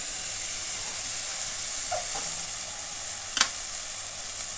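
Turmeric, chili, cumin and coriander powders go into a pan of sautéed onion and garlic, a steady close sizzle with a brief clink of a utensil partway through.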